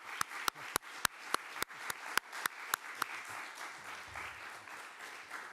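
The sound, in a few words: audience applause at a press conference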